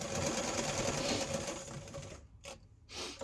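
A sewing machine runs steadily, stitching a narrow seam along a cooling neck wrap, close and continuous before stopping briefly, then a short burst of stitching at the end.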